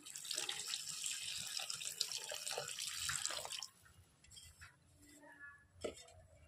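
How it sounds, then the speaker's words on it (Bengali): Water pours steadily into a cooking pan for several seconds, then stops, followed by faint drips and a few light clinks of utensils nearby. "পানিটা আমি দিয়ে দেবো একেবারে"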